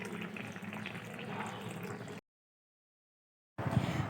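Cornflour slurry in water is poured into a simmering katla chili fish curry, a steady liquid pour that runs about two seconds, cuts to silence, then resumes briefly.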